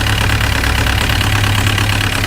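2003 VW Jetta TDI turbo diesel engine idling rough, a loud, close, steady clattering drone with a strong low hum and uneven knocking pulses.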